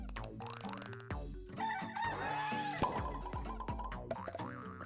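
A cartoonish rooster crow from the video game WarioWare: Get It Together!, bright and tonal with rising and falling pitch, set amid bouncy game music and boing-like effects, no talking.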